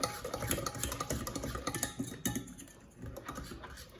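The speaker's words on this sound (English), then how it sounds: "I'm going to stir this to prevent, we call them tablets, from forming." A spoon scrapes and stirs thick maize meal paste for sadza in a pot, a close, busy run of quick clicking strokes that eases off briefly before picking up again.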